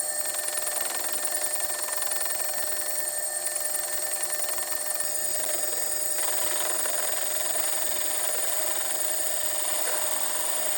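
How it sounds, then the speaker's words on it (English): A metal lathe turns an oddly shaped piece of aluminum with a steady high-pitched whine and a fast rhythmic warble, constant and fairly close. "I have chucked up this oddly shaped piece of aluminum, and we're gonna see if I can turn that into the dial."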